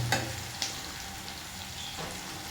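Meat browning in a pan gives a steady close sizzle, with two sharp clinks from a spoon near the start and a quieter scrape toward the end.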